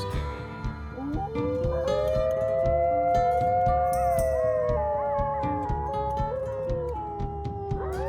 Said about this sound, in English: You hear the howl, but you hear two distinct howls.